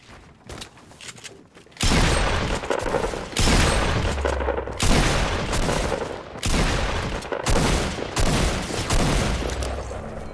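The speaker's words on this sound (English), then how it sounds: "I definitely heard two people shooting at each other." Rapid bursts of Fortnite gunfire on Nintendo Switch, two players shooting at each other, in several sustained volleys separated by short gaps, loud and close, with no talking.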